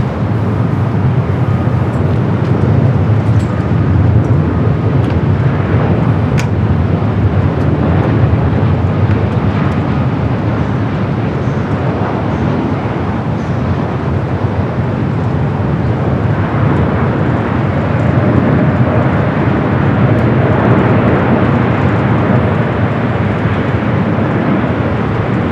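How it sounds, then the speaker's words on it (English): A China Airlines cargo Boeing 777 freighter from Taipei arrives on runway 25 left at LAX: a loud, steady jet roar that fills the whole stretch, mixed with wind buffeting the microphone. "777 freighter, China Airlines cargo, flight 5382, coming up from Taipei. Next arrival on the 25 left."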